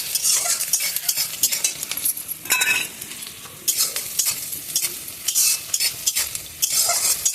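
Chopped onion and whole bay leaves frying in a pan in a home kitchen, loud continuous sizzling broken by scraping stirs of a metal utensil against the pan, close and without talk.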